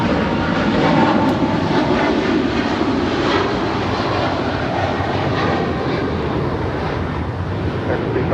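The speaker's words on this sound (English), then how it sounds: "This is Air China Flight 988 departing to Beijing on a 777-300ER." An Air China Boeing 777-300ER heavy jet departs LAX bound for Beijing, its engines a loud, sustained broadband roar filling the whole stretch without letup.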